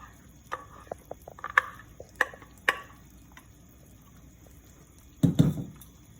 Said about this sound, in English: And just stir it around a little bit.